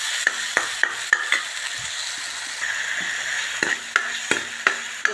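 Onion, garlic and ginger gravy sizzles in a pan for green masala chickpeas, with a soft hiss behind a series of crisp, irregular spoon clicks and scrapes close by, and no speech.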